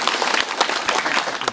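Audience applause from a crowd at a talk, loud and dense clapping with no break from start to finish.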